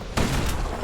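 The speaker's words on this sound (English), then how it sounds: "Kid's blasting everything in sight with that newfangled musket." A single sharp musket blast from the action game Bastion, close and punchy, followed by a second fainter report and a short rumbling tail.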